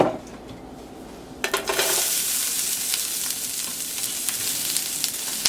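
Onion and garlic drop into a hot pan for creamy rajas with chicken and burst into loud, steady frying that hisses on after a quieter lead-in, with a clink of cookware.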